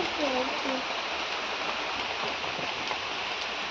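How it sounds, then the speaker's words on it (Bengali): Heavy monsoon rain pours in a dense, constant wash of noise close by, with a voice briefly heard at the start. "মানে বৃষ্টি হচ্ছে"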